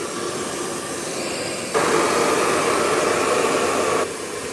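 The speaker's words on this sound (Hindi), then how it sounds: "हमें आगे से बाउंस चाहिए तो हम इस तरह से करेंगे ब्लो ड्रायर" A handheld blow dryer styles freshly cut soft-layered hair in a salon, its steady loud whoosh running throughout and jumping to a stronger setting midway before dropping back.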